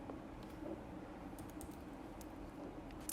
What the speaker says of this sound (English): If we refresh the page and we type an email